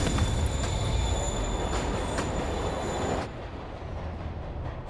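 A train in the Spider-Man video game pulls away with a loud, steady rumble and metallic wheel squeal, then drops abruptly to a quieter, more distant roar for the final seconds.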